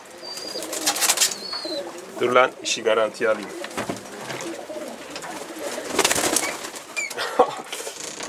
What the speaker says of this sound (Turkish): Kuş çok rahattı.